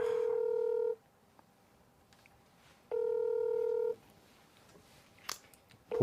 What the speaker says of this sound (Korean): 제가 지금 한번 전화를 걸어보도록 하겠습니다